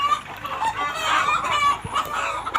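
Layer hens in a hot poultry shed cluck continuously, with a rooster crowing among them, a dense, close farmyard chatter with no talk over it.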